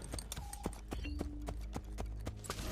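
Hooves clip-clop in rapid rhythm as a horse gallops in Assassin's Creed Brotherhood, clear and continuous, with brief tonal game sounds between the steps.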